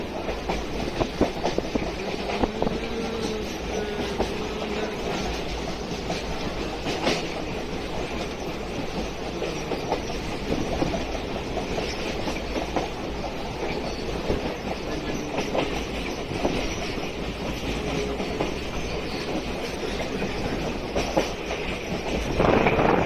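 A train passes close by near Arambag railway station, a steady rumble with clickety-clack of wheels on rails running continuously at an even, fairly loud level for over twenty seconds.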